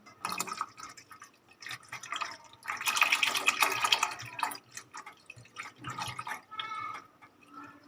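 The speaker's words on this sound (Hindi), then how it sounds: "इसमें मैंने फ्रेश मिल्क डाला है 1 लीटर" One litre of fresh milk poured into a cooking pot for rasmalai, a steady liquid stream that swells, thins and trickles with splashing and dripping, close and moderately loud, with no talk.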